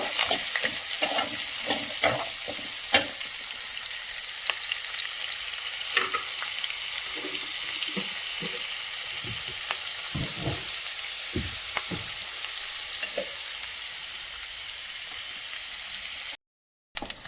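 Steady sizzling of onions and curry leaves frying in hot oil for a tempering, with occasional stirring scrapes and soft pops, no voices, ending in a brief moment of silence.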